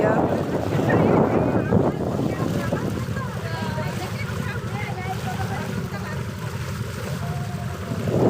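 A boat moves across a wetland lake with steady water wash and gusting wind noise on the microphone, the sound continuous and moderately loud throughout, with a person talking nearby.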